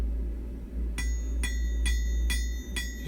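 A blacksmith's bar is hammered into a long square taper, five bright ringing hammer blows about half a second apart over a constant low roar from the forge, close and clear.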